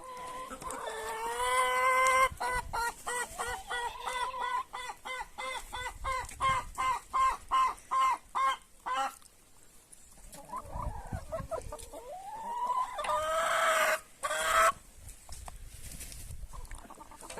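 Meat-and-egg crossbreed hens cluck in a quick rhythmic series of short calls, close and clear, with a few longer squawks and cackles breaking in.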